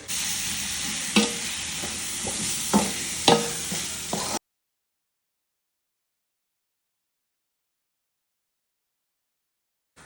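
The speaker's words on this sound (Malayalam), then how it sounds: "നമ്മൾ ഫിഷ് ഇവിടെ ഫ്രൈ ചെയ്താൽ വെച്ചിക്കണ്" Fish fries in a pan with a steady hiss and occasional sharp crackles and spatters for about four seconds, loud and close, then silence.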